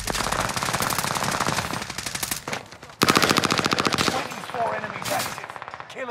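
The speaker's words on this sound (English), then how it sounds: "I'm getting shot from dingy, man." Rapid automatic gunfire in the video game Warzone, with loud sustained bursts rattling close and a brief pause midway before a second volley, mixed with faint voices.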